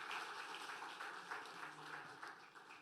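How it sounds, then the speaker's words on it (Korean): A church congregation applauds youth and young-adult singers at a Friday prayer meeting, a steady, faint wash of clapping from many hands that holds evenly throughout. "우리 한번 큰 격려의 박수 한번"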